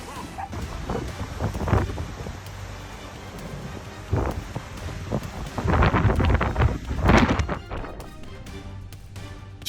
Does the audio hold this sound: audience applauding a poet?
no